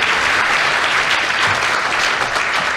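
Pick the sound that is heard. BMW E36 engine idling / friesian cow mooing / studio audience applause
studio audience applause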